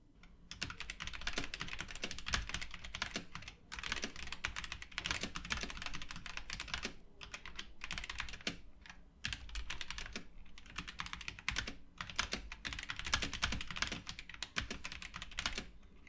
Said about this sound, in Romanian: Pentru a asculta puțin tastatura, am pregătit și un scurt test.